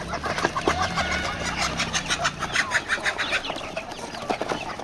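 Village chickens cluck and cackle continuously, a busy flock close by with overlapping calls and a low engine rumble underneath.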